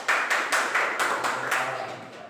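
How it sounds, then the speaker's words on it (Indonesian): Applause in a classroom, a small group clapping in a steady rhythm of about six quick bursts, fairly close and fading slightly toward the end. "Tepuk tangan."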